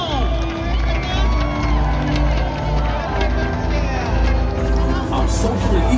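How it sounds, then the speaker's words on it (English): Large crowd at Singapore's 2025 National Day Parade, a steady roar of cheering, flag waving and rhythmic beats under an announcer's voice. "Come on, Singapore, let's wave our flags and cheer them on."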